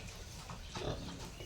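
A pig in its pen, apparently a sow, gives a short, low grunt at close range against steady background noise.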